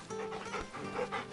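A dog in Final Fantasy XVI pants steadily while being petted, a continuous soft breathy rhythm that sits close and moderately quiet, with no talk over it.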